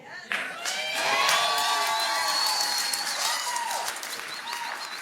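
A crowd cheering and applauding a tennis player's dance, a dense sustained roar of clapping with whoops and shouts scattered through it.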